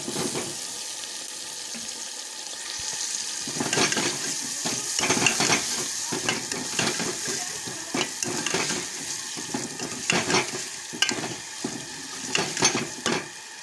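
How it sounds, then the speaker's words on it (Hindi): Cauliflower fries in a pot for biryani, a soft sizzle beneath frequent scraping and clattering stirs of a utensil against the metal, close and lively. "अब ये गोभी मैं इसमें डाल दूँगी।"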